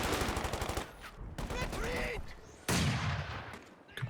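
Rapid machine gun bursts from a Company of Heroes 2 2v2 match, with a dense volley of shots early on, then more scattered gunfire and battle noise. Shots stay loud and close throughout.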